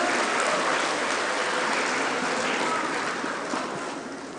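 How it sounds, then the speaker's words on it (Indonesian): An audience at a faculty graduation ceremony applauds for students, a dense, loud wash of clapping that stays steady and then slowly fades toward the end. "Tepuk tangan untuk mahasiswa PEBI."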